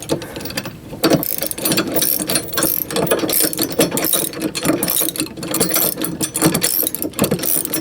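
Rapid, continuous metallic clicking of a ratchet wrench tightening running board mounting bolts, loud and close, running steadily for several seconds with no talking.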